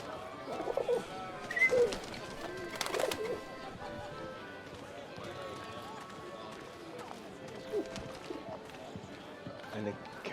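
Pigeons coo in a Paris street scene from the game 11-11: Memories Retold, soft repeated calls mixed with footsteps and light clatter, with voices murmuring in the background.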